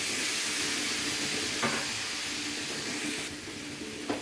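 Potatoes and pointed gourd fry in spiced oil with tomato added, giving a steady close sizzle and hiss with a couple of brief clinks from stirring.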